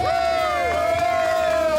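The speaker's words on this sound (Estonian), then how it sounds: "Rahvas, teeme nüüd kadedusest talle suure aplausi" A crowd at a family day by a lake cheers and whoops in a loud, sustained burst, with a strong shout running over the general noise.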